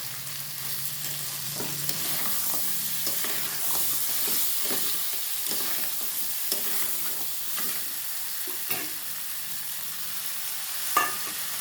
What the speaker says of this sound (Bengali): চেরা কাঁচা লঙ্কা দিয়ে দেবো চারটে পাঁচটা